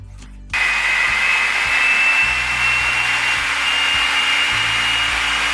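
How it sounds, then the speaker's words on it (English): A food processor runs continuously after a short start, a loud, steady whirring motor noise blending vegan shredded chicken ingredients, close and alone with no talk. "So we are going to put in all of our ingredients except the Vital Wheat gluten into the food processor."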